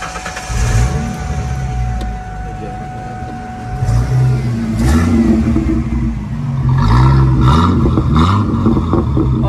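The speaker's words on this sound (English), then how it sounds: "this is going to be another car startup on a 2001 Ford Mustang convertible" A 2001 Ford Mustang V6 convertible cranks and fires up, its engine then revving in several rising bursts before settling, loud and close with no talking.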